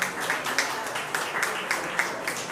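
Applause from an audience at an awards ceremony, a steady patter of many hands clapping at moderate level with a few sharper claps standing out, no voices over it.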